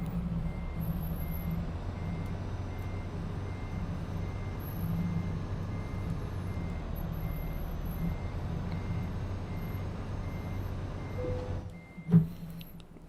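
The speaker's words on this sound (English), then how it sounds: "I need to reverse and get back into that." A heavy truck in Euro Truck Simulator reverses with its steady reversing beeper pulsing over a low idling engine drone, ending in a short hiss like an air brake.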